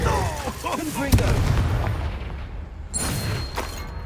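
A booming blast from the Confringo spell in Hogwarts Legacy hits with a sharp impact, followed by rumbling game effects and a second burst, alongside a voice speaking.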